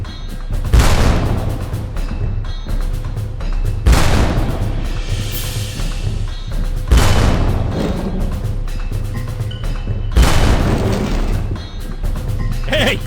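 Booming explosions destroy machine gun nests in the video game Darkest of Days, four big blasts spaced a few seconds apart, each a deep rumbling burst over a continuous low battlefield roar.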